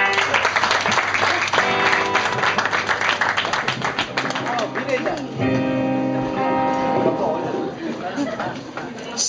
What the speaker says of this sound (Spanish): Un aplauso para Dani.